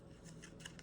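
Scissors snip through paper for a branch shape in a planner, a few quick faint cuts close by in a quiet room.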